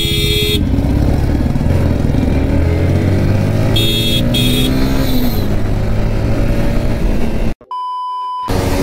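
A KTM RC390 and an RR310 motorcycle race through city traffic, engines droning loudly and continuously over road and wind noise with a few short horn beeps, and a brief cut to silence near the end.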